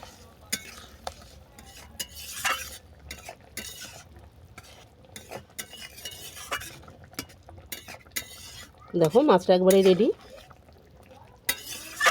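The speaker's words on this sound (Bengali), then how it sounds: "কাসুন্দি দিয়ে আবারও ভালো করে নেড়ে চেড়ে নিলাম" Bhola fish stirred with kasundi mustard sauce in a pan, scattered spoon scrapes and metallic clinks over a faint sizzle, with a brief louder tonal burst near the end.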